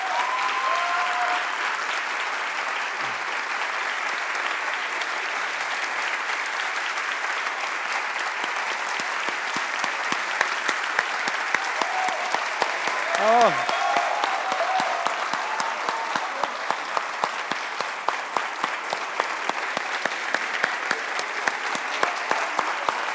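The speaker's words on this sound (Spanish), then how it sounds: "voy a pedir un aplauso para Carla Antonelli, por favor" A crowd at a book presentation for Carla Antonelli's memoirs breaks into long, sustained applause that swells and then turns into rhythmic clapping in unison. A brief exclamation and a few voices rise through it.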